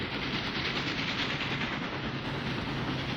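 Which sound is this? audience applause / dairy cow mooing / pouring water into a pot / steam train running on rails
steam train running on rails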